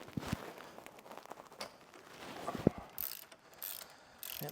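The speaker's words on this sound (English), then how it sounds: "14mm socket on the ratchet, and that's going to go here" Ratchet fitted with a 14mm socket working a bolt and nut loose on a Honda TransAlp motorcycle, giving scattered light clicks and mechanical ticks with one sharp metallic snap partway through, close by and alone.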